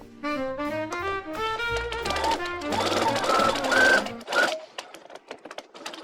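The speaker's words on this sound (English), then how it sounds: "then I stitched a hem on each side" Sewing machine stitching a hem on fabric, a fast rhythmic whirring run of stitches that speeds up, then stops with a few short clicks near the end.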